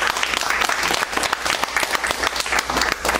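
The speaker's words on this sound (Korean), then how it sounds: "박수 한번 해주시겠어요?" A church congregation applauds, with dense, steady clapping from many hands filling the room and no talk over it.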